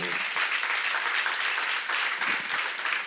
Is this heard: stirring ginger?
no